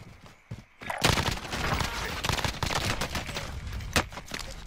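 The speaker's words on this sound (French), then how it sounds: "Me fais tirer dessus!" Rapid automatic gunfire from a Call of Duty: Warzone match, a dense sustained burst of close shots lasting several seconds, with a few isolated bangs just before it starts.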